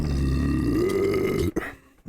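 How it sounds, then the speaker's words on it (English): A long, deep, loud human burp rumbles close up for about a second and a half, then stops abruptly, leaving brief low aftersounds. "Your burp stinks."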